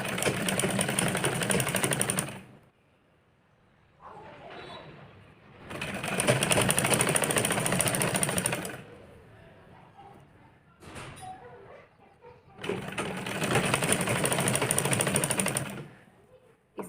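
Sewing machine stitching the belt straps of a blouse, three loud bursts of fast, buzzing needle runs separated by quiet pauses with faint handling noises.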